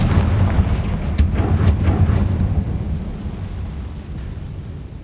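A Confringo blast spell explodes in the video game Hogwarts Legacy, with two sharp cracks over a dense, rumbling low roar that slowly fades out.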